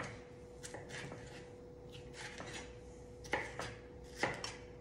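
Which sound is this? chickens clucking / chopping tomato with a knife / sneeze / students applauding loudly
chopping tomato with a knife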